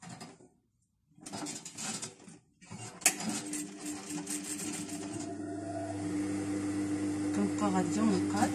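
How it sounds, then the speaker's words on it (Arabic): A sewing machine stitches fabric for a gandoura, its motor building into a steady close whirring hum after some brief handling noises and pauses. "دابا غادي نخيط"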